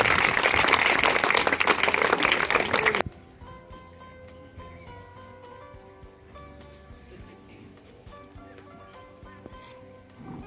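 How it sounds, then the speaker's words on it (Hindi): Applause from students at a school farewell ceremony for a principal, a loud dense burst of clapping for about three seconds that cuts off abruptly, leaving quiet room sound and faint background noise. "जोरदार तालियां से बोलिए"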